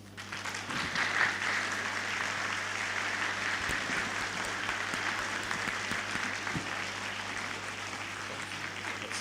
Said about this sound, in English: the volume of that applause tells us about the popularity of this presentation